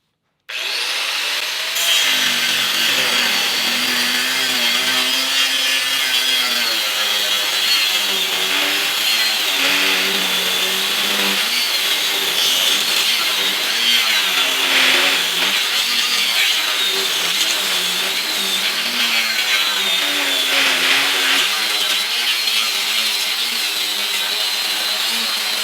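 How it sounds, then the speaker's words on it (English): An angle grinder with a metal and stainless steel cutting wheel cuts through aluminum, a loud sustained harsh grinding roar with wavering pitch as the load changes, close and continuous. "here we go with a metal and stainless steel cutting wheel. I want to see how it works with this aluminum"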